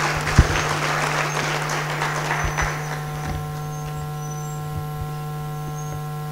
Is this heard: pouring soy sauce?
no